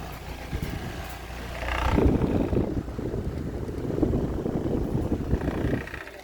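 A 12 V DC electric fan runs close by with a steady, rushing whoosh of airflow that swells louder partway through and then holds, with no voices.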